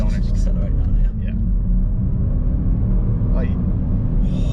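A 400-horsepower Polestar-tuned Volvo XC60 hybrid SUV accelerating, heard from inside as a steady low drone and rumble that holds through the run, with voices talking over it.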